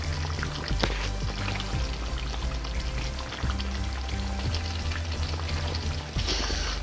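Ghanaian Fante Fante fisherman's sauce bubbling over very low heat, a close, steady sizzle with soft popping bursts and a brief clatter, no voices.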